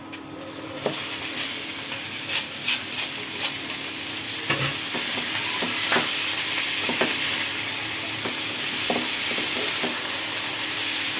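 Onion paste sizzles steadily in hot oil, a continuous frying hiss broken by repeated scraping stirs and soft clinks of a spoon against the pan, with no voices.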